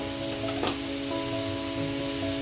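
Egg and carrot frying in a pan over raised heat, with a loud, steady, continuous sizzle throughout and a faint stirring scrape.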